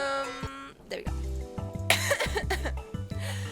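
Several harsh, throaty coughs and throat-clearing bursts come in short clusters, close to the microphone, from a person recovering from a sore throat, with music or tones sounding under them.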